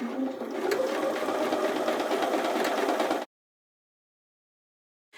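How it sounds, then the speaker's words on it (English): A sewing machine runs edge stitching along a front pocket piece for trousers, a close, steady whirring buzz lasting about three seconds before stopping abruptly into silence. "So I finished edge stitching my front pocket piece"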